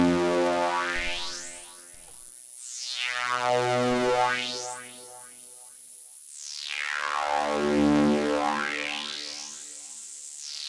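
BP Synth patch run through a high pass filter, its tone repeatedly sweeping up to a bright, thin peak and back down, giving a slow rising and falling wah-like motion, sustained, with no talking.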